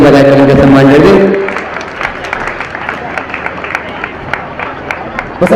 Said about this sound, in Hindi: आप लोग जोरदार तालियां बजाकर उनका सम्मान करें